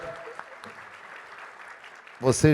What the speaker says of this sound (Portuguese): eu gostaria de pedir uma salva de palmas para esse moço que é extraordinário